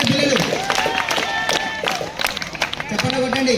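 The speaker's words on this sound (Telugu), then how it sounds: "చప్పట్లు కొట్టండి." Children at a school felicitation event clap together in scattered, lively applause, with adult voices speaking over the clapping and crowd noise around it.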